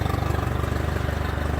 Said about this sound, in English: Now that we're done, we're going to turn off our motor first